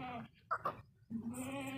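Goats at a market sale bleat close by: one drawn-out bleat, two short calls, then another long, loud bleat, with no talking.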